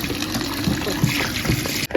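Dirty water from washed crayfish for a Nigerian tomato stew splashes and gushes as it pours out. The stream runs loud and steady and then cuts off abruptly near the end.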